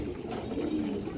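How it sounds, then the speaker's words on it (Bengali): A blue-eyed female pigeon coos softly and steadily through a short stretch, close by, with low murmuring tones and no voices over it. "এই দেখেন ব্লু চোখের মাদি কবুতর"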